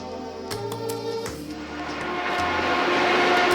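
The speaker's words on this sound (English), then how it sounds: "So you can hear our AGS systems kind of running." Fans of an AGS climate battery system run steadily inside a 500 square foot passive solar greenhouse, a constant broadband whir with a low hum, growing slightly louder toward the end.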